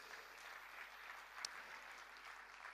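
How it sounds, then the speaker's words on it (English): An audience at a financial leaders' investment summit applauds as speakers walk onto the stage, a steady, soft wash of clapping heard from a distance with no other sound. "let's give them a round of applause to get them up here"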